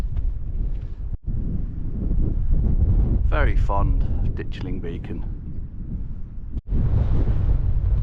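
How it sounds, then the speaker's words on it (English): Strong wind buffets the microphone on Ditchling Beacon hilltop, a loud continuous roar that drops out briefly twice, with someone speaking partway through. "Pretty windy here."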